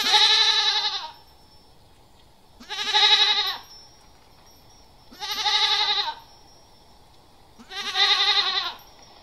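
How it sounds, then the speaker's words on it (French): Goat bleating four times, each a long wavering cry of about a second spaced roughly two seconds apart, loud and close with nothing else audible. "Et enfin la chèvre"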